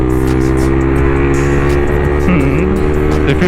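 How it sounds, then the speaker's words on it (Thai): A loud, close motorcycle engine rumbles and revs continuously, its exhaust roaring with rising and falling pitch. "ไม่ได้ยินเสียงท่อดังนี้มานานแล้วนะ"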